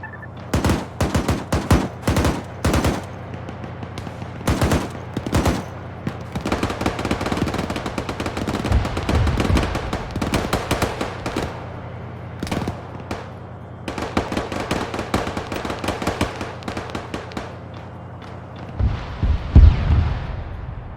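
Rapid bursts of automatic gunfire and single shots in an Arma 3 military convoy training operation, loud and close, in repeated volleys separated by short pauses, with a heavier blast near the end.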